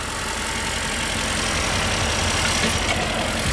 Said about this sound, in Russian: Настоящая гордость этого Range Rover – новый дизель.